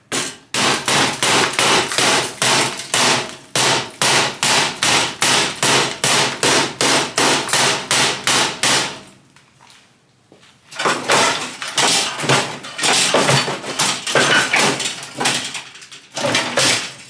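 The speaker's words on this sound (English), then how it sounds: "Body hammer on that." A body hammer strikes a car core support in a fast, regular series of loud metallic clangs. A short pause follows, then another burst of less even blows.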